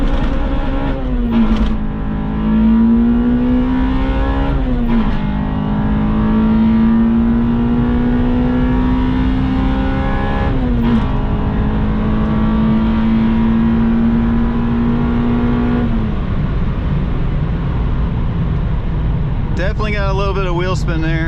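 Acura RSX Type S with a K20Z1 VTEC engine revving hard in first gear, a loud rising engine note that climbs steadily, breaks briefly at shifts, then keeps pulling, with a person talking over it.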